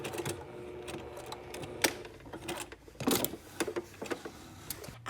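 A sewing machine back stitches at the end of a casual shirt collar seam, giving short, uneven bursts of clicking and rattling stitches with pauses, fairly close and loud.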